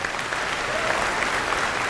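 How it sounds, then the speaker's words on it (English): A graduation ceremony audience gives dense, steady applause that fills the room evenly, with no voices above it. "she deserves a round of applause"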